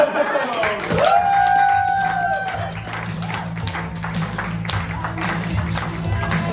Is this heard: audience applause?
yes